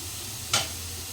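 Turmeric, chili and coriander powder hit hot oil in a pan for a Maharashtrian amti, giving one brief, soft sizzling burst over a faint steady background hum.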